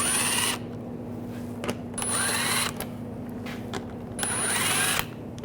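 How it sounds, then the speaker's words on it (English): A power tool with a 7mm socket spins screws out of the bumper area of a 2009-2017 Volkswagen Tiguan, three loud whirring bursts close by with quieter pauses between them. "Using a 7mm socket, take these screws out."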